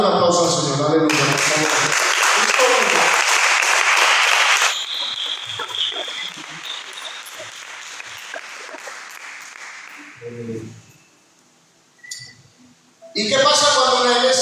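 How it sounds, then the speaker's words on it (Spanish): A church congregation breaks into loud, sustained applause under a preacher's voice, then the clapping thins out into scattered claps and murmurs before he speaks again. "Dale un aplauso al Señor"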